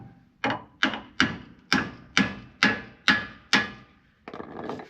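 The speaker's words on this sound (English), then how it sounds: "Little hammer taps." A light hammer strikes a shackle on the front suspension of a Ford Bullnose wrecker truck seven times in a slow, even rhythm, each tap sharp and ringing briefly, followed by a softer scraping rustle.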